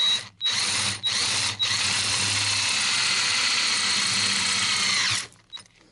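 A drill bores a 6.5 mm hole through car body sheet metal, a loud, close, high whine that runs steadily for about five seconds with a few brief dips at the start before cutting off.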